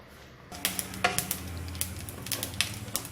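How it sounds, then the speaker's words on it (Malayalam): Mustard seeds, urad dal and chana dal popping in hot oil for a Kerala erissery tempering, giving sharp irregular crackles and pops that come in quick scattered bursts over a low sizzle, close up with no talk. "കടുക് പൊട്ടി തുടങ്ങിയിട്ടുണ്ട്."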